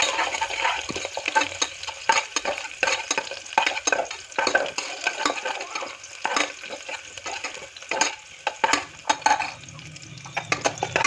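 Onions, green chillies and curry leaves sautéing with mustard seeds in a pan for tomato rice, a crackling sizzle broken by busy, repeated spoon scrapes and clanks against the pan, close and without voices.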